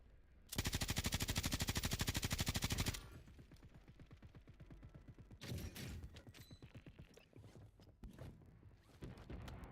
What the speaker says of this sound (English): Where are they sniping at me from?